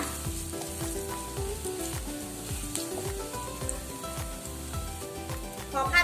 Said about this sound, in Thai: ขั้นตอนแรกก็ให้เราตั้งกระทะแล้วก็เทน้ำมันลงไปนะจ้า ตามด้วยกระเทียมสับจ้ะ ผัดให้พอหอมและเหลืองดีเลยนะจ๊ะ